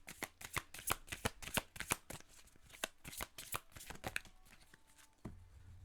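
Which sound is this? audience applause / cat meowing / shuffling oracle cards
shuffling oracle cards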